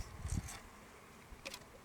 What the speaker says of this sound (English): I don't want to crush any of these bees.